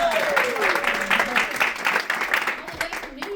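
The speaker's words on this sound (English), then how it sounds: "everyone give Susie a great round of applause." Audience applause for Susie at a Network Together networking event, broadband clapping running steadily for a few seconds with a voice speaking or intoning over it.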